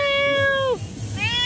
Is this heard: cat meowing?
yes